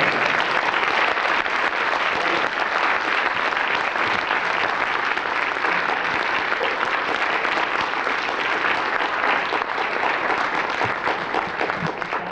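Sustained audience applause at the close of a university honors colloquium lecture, a dense, steady wash of many hands clapping at constant loudness throughout, with no talking over it.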